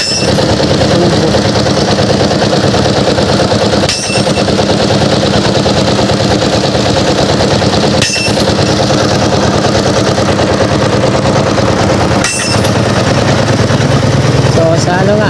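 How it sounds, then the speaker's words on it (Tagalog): A soil testing drill rig sinks pipe into the ground at the Padre Jacinto Zamora Bridge, a steady loud mechanical engine drone with sharp metallic impacts repeating about every four seconds. "Mega drill."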